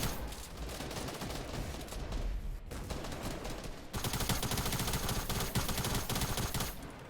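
Tactical SMGs fire in a Fortnite endgame as sustained, rapid automatic bursts that run almost continuously and grow denser and louder partway through, with no voices over them.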